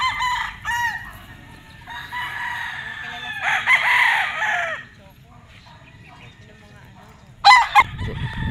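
A six-month-old Killer White stag rooster crows at a game farm in Tanauan City, Batangas: a long, loud, harmonic crow over the first five seconds, then quieter calling and a sharp burst of crowing near the end.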